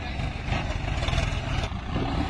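Three tractors, a Sonalika, a Swaraj and a Mahindra, run together in the desert, giving off a continuous low engine rumble with a slight rise and fall, heard from fairly close.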